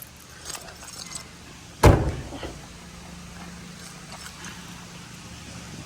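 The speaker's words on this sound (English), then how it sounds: "Throwing the keys in there" Car keys for a 1972 Chevrolet Chevelle jangle in one sharp, close metallic burst as they are tossed inside, with quieter faint clinks before it and a low background hum after.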